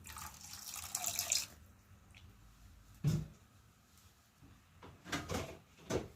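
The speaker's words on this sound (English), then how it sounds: "Add a little water to it now, like this." Water pours briefly into a pan of barbecue sauce, a short splashing rush, followed by faint clinks and a couple of quieter knocks.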